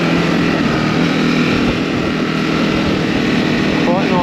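A Ducati Desert X motorcycle engine pulls hard in second gear on a ride, a loud continuous roar heard on board with steady wind rush throughout.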